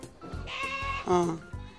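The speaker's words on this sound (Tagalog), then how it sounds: "Cute-cute na mga kambing." Several goats bleat close by during a livestock delivery, their cries rising and falling in short bursts while people talk over them.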